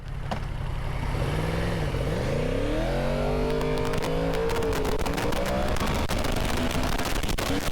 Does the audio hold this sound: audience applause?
no